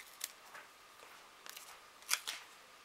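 Scissors cut through paper card while a pastel greeting card is being made, giving a handful of quiet, crisp snips spaced irregularly and heard close up in a still room.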